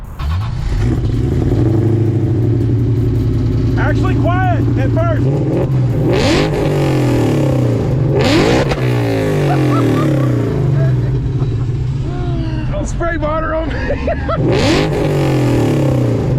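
A supercharged Coyote V8 swapped into a Fox Body Mustang street car fires up and revs hard, loud and close, with repeated rising engine bursts while people talk over it.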